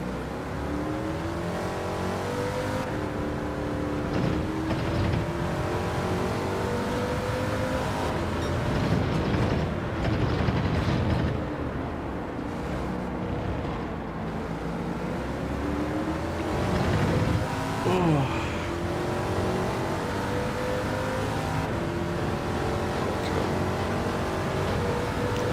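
Race car engine straining in first gear in Gran Turismo 7, a loud continuous droning whine that climbs and falls in pitch with repeated revving sweeps, alone without talk.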